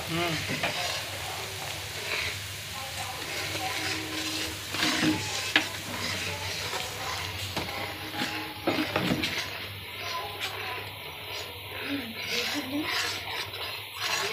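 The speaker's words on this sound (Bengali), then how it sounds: "এবার দিয়ে কিছুক্ষণের জন্য নাড়তে থাকবো" Chopped ginger sizzles and fries in a pan while being stirred for chilli chicken, a steady crackling hiss with occasional spatula scrapes, and a person talks over it at times.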